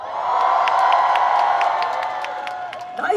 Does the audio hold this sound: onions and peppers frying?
no